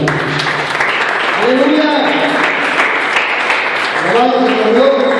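Church congregation clapping in steady, sustained applause throughout, with a voice calling out and speaking over it.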